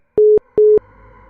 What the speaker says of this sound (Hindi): मैंने दोबारा फ़ोन डायल किया, पर उस वक्त फ़ोन एकदम डेड था।